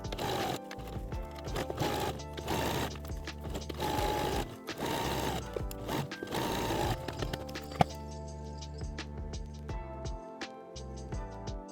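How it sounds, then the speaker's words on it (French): Sewing machine with a standard presser foot stitching around the edge of a fabric evening clutch, a steady mechanical whir running in bursts with short pauses between runs, close and fairly loud, no talking. "Puis je couds tout autour à 1 cm du bord."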